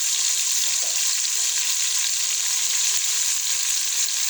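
Tomatoes with dry coriander and turmeric sizzle steadily in a frying pan while being stirred, a continuous bright hiss with no talking.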